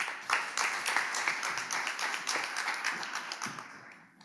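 An audience at a stage event in Seoul claps in a burst of applause that starts suddenly, holds as dense overlapping hand claps, then thins out and fades.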